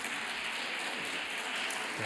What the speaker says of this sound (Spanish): Un fuerte aplauso, damos la bienvenida a Juan Carlos Aijols.